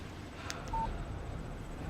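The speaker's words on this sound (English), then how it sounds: "Text message from Barry." A short electronic phone notification tone for a text message from Barry in the Alan Wake video game, a single brief beep over steady low background ambience.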